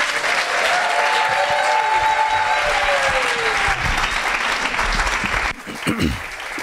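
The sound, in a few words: audience applause for a presenter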